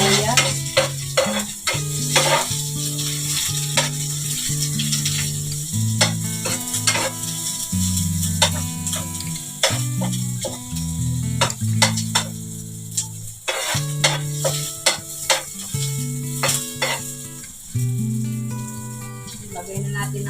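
Onion and garlic stir-fry in a pan, with steady sizzling and frequent scraping stirs; the garlic is already browned. A voice talks over the cooking throughout, and the frying stays close and fairly loud.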